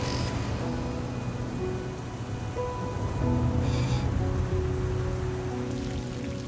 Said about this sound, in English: Another night with no sleep gives way to another day of torrential rain.